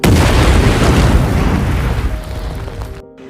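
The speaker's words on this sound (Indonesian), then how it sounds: "Tiba-tiba muntah dan membuat ranjau di depannya meledak" A single loud, close landmine explosion booms and then rumbles away over a few seconds, with faint ringing tones left as it fades.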